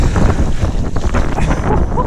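Strong, loud wind buffets the microphone while paddleboarding on a river, a constant roaring rumble that masks everything else, with a hint of water beneath it.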